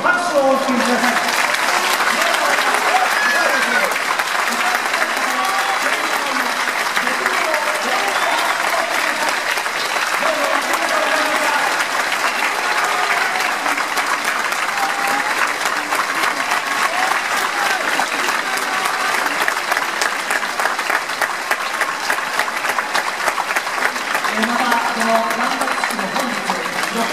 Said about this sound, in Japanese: 皆様、新生牧原通りに拍手をお送りください